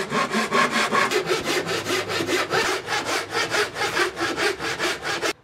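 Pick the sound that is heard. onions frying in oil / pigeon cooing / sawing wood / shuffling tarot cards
sawing wood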